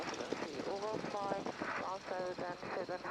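A Navy Stearman PT-17 biplane's radial engine drones steadily as power is added while taxiing at Winter Haven's Gilbert Field, a continuous rumble running under a voice throughout.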